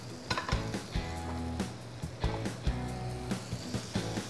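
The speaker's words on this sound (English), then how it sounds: "I'm just going to let the bacon cook in its own fat." Bacon sizzles in its own fat in a pan, a steady crackling hiss broken by sharp clinks and scrapes of a utensil against the cookware.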